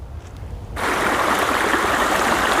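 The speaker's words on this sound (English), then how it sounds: "I just stopped by this stream to refill one of my water bottles" A stream on the Appalachian Trail rushes steadily and close by, a broad continuous wash of flowing water that swells in after a quiet opening moment.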